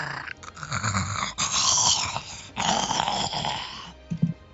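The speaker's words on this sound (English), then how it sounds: "Emitting a low growl that sounds haunting as you hear the included gurgling from its throat." A monstrous panther growls low and throaty with a gurgling rasp, a drawn-out snarl broken into a few rough swells that ends in a brief louder burst, close and with no talking.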